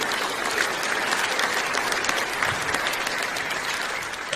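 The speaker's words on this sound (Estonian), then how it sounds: "see väärib aplausi" Dense, sustained audience applause at an Estonian stand-up comedy show, loud and steady throughout with a broad crowd wash and no voices on top.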